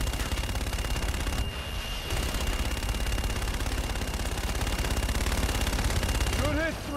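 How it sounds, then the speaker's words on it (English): An aircraft gun run strafing targets in Call of Duty: Infinite Warfare, a loud, dense, unbroken machine-gun roar with a brief lull partway through, radio-style voices talking under it. "Inbound for gun run. Guns, guns, guns!"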